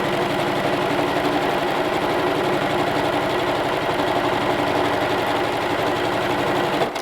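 A sewing machine runs steadily through a quilt block seam, stitching a partial-seam patchwork piece in one continuous, loud, close run that stops abruptly near the end.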